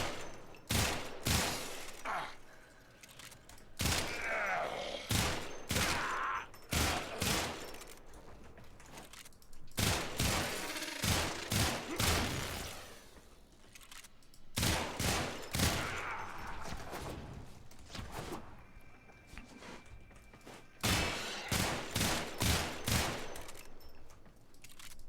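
Sicarus pistol firing in bursts in the video game Warframe, with rapid clusters of sharp shots repeating again and again, separated by brief pauses and other game effects.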